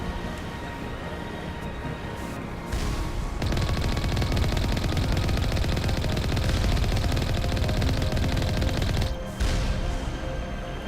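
Sustained rapid gunfire from enemies in Mass Effect Legendary Edition, a dense rattling burst of automatic weapon shots that starts after a quieter stretch, stays loud and continuous for several seconds, then briefly cuts out and resumes.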